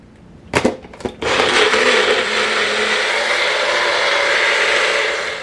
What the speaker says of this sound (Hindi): आम काट के अब इसकी पेस्ट बना के जी आपको दिखाते हैं जनाब